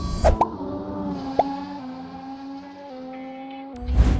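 A car in the Assetto Corsa racing sim drives over freshly built curbs: engine tone rises and falls, punctuated by short thumps and bumps as the tyres strike the kerbing, clear and close, with no talking.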